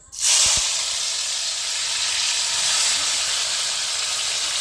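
Tomatoes dropped into a hot pan for pav bhaji set off a loud, steady sizzle, opening with a brief clatter before the hiss holds bright and constant to the end.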